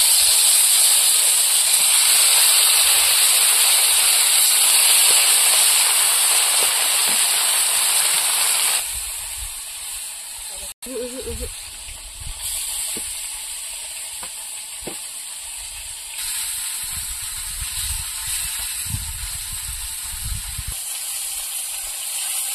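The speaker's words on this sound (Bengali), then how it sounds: "এবার মাছগুলো ভেজে নেবো, কড়াইতে তেল দিয়ে দেবো।" Fish frying in oil in a wok, cooked outdoors for a sour Bhola river-fish dish near the Sundarbans, giving a loud steady hiss and sizzle that later drops to a softer crackle with occasional stirring clatter.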